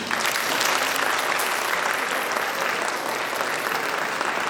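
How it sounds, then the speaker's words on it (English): Students at a senior school assembly give a loud, continuous round of applause that holds steady across the whole stretch. "Let's give a huge round of applause for the dentist"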